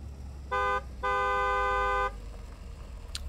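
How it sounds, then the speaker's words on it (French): A high-pitched, nasal car horn gives a short toot followed by a longer sustained honk, heard clearly over quiet background. "Vous entendez ce klaxon aigu nasillard."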